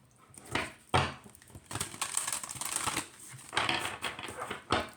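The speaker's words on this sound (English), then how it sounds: "So I'll attempt to do a bridge shuffle for you guys." A thick oracle card deck is side-shuffled by hand, giving repeated close rustling and riffling bursts of stiff cards with soft knocks between them.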